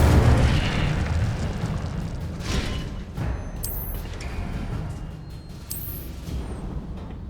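An Incendio fire spell cast in the video game Hogwarts Legacy: a loud whooshing burst of flame that rumbles and fades, followed by further crackling fire blasts and short bright magical shimmers.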